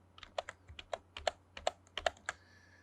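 Computer keyboard keys tapped in a short, uneven burst of about ten crisp clicks while a command is entered in AutoCAD, close and alone over a low steady hum.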